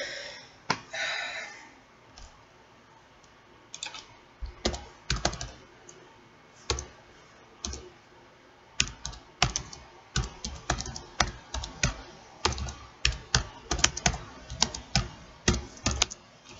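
Close, sparse clicks from a computer desk come in irregular bursts and single taps, sharp and fairly quiet, with no talking.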